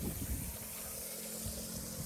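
Irrigation water runs steadily through a channel into a cumin field, a continuous close rushing gurgle with no breaks, heard outdoors.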